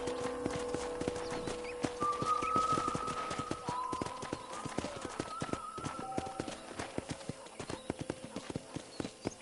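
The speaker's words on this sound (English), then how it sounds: "let's see if you can still ride a horse" Horse hooves clip-clop at a steady riding pace in the video game Red Dead Redemption, with a musical score and brief tonal game sounds over the rhythmic hoofbeats.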